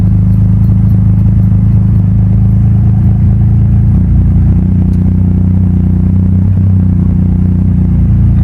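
A Suzuki Cappuccino's small engine idles steadily and close by, a constant low rumble with light mechanical clatter throughout, no voices.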